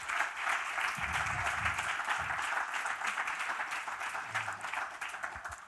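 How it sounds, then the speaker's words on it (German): Dense, sustained applause from an audience after a panel discussion fills the room, many hands clapping steadily with faint low murmurs underneath. "sie haben einen Applaus verdient"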